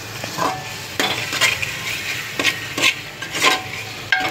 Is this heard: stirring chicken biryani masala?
yes